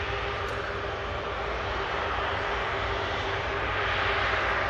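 A Boeing 787-9 Dreamliner departs for Shanghai from Manchester Airport, its engines making a steady, loud broadband roar that holds evenly throughout with no voices.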